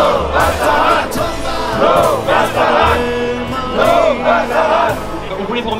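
A crowd of supporters outside a trial shouting and chanting in repeated bursts, loud and close, rising and falling in waves.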